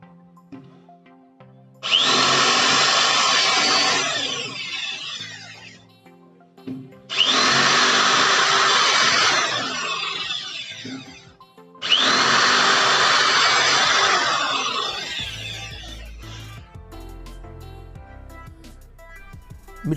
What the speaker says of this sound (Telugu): మీరు చూసినట్టయితే వుడ్ మీదకి ఇది చాలా ఈజీగా డ్రిల్ చేసేసింది.